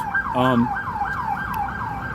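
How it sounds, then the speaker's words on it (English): An emergency siren wails up and down repeatedly, fairly close, on a New York City street, with a short blaring horn burst near the start and steady traffic noise underneath. "Sirens everywhere."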